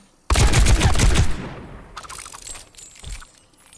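Rapid burst of gunfire striking Roadhog in Overwatch, a loud dense volley for about a second that fades into scattered metallic impacts and a brief later shot, with no talking.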